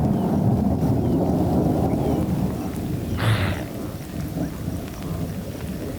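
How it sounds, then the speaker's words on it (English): Thunderstorm with summer rain on the savanna, a steady hiss of rain falling under a deep, rolling rumble of thunder, loud and continuous. "complete with summer rains."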